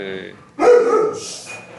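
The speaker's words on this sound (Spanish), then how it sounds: "trato de callar a mi perrito" A small pet dog barks indoors in a short, sharp burst of yips, loud and close, following a brief stretch of a human voice.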